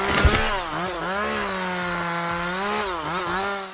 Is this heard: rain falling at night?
no